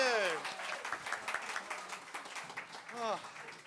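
A live theatre audience claps for volunteers from a Harry Potter themed stage show, a moderate spread of applause heard under the host's talking and exclamations.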